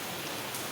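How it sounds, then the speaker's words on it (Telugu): Steady rain falling without wind: a dense, even hiss of drops pattering on surfaces, close and continuous with no gusts or voices. "గాలి లేకుండా పడితే వాన మంచి ఎక్కువసేపు వస్తుంది"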